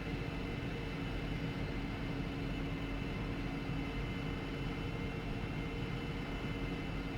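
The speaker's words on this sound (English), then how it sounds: "really nice sound effects on the engine in terms of the particular characteristics of the F-104" An F-104 Starfighter jet engine in a flight simulator video game, a steady unbroken whine with a constant roar underneath, sustained at an even level with no talk.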